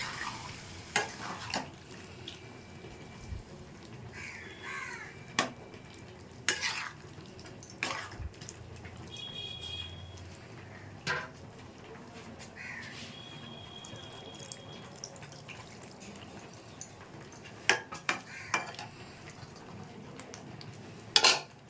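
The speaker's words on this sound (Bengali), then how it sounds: "এবার আমি একটু শুকনো শুকনো করবো না, একটু ঝোল করব, তাই জন্য একটু গরম জল দিয়ে দিচ্ছি" Hot water is poured into a papaya, potato and soybean curry in a pan, giving a soft steady sizzle and bubbling with scattered clinks and stirring taps throughout, no voices.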